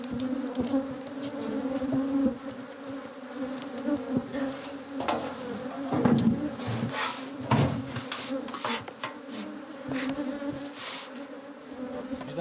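Bees hum around hives on a tall iron-ringed stand in a valley, a steady near buzz with passing individual insects swelling louder and fading, plus occasional light rubbing and knocking on wood.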